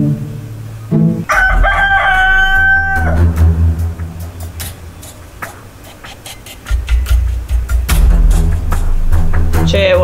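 A rooster crows loudly up close, its long rising call followed by broadband background noise and a second burst of commotion later on.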